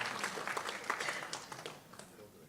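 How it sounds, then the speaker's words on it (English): A conference audience claps for the Kenyans, a short burst of scattered hand claps that starts fairly loud and tapers off within a couple of seconds. "let's give a big round of applause to the Kenyans"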